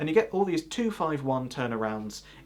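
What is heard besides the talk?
None of the usual background noises is heard.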